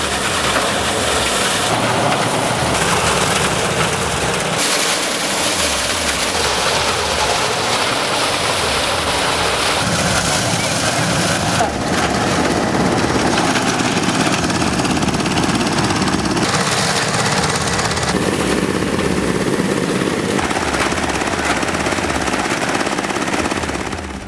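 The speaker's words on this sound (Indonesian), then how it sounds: "Jika menggunakan mesin thresher, maka kecepatan mesin harus diperhatikan" A soybean thresher machine runs continuously. It makes a loud, steady mechanical roar with rattling and churning that shifts slightly in tone over about twenty seconds, close by and with no voices.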